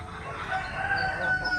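A Basilan rooster crows at close range, loud and drawn out, its strained tone rising and then wavering over a soft outdoor background.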